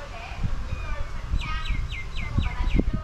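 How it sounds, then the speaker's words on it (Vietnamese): A myna bird calls outdoors with a quick series of about six rising whistled chirps in even rhythm, moderately close, over low thumping handling noise and background rustle. "Trên này có một con sáo"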